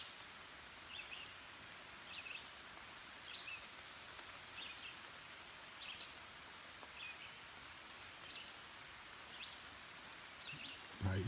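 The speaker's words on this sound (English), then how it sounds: "And it's starting to rain." Steady, hissing rainfall patters across leaves in a forest on the Appalachian Trail, with a bird chirping faintly in short repeated calls in the distance.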